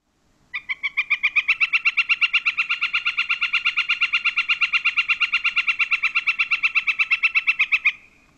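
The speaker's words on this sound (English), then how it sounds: "Northern flicker." A northern flicker, a large woodpecker, gives its long, loud call: a rapid, even series of about fifty sharp notes running steadily for around seven seconds, close and alone.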